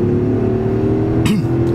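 A 2008 Jaguar XJ Vanden Plas engine pulls steadily under acceleration, a loud, close, continuous drone with no voices over it.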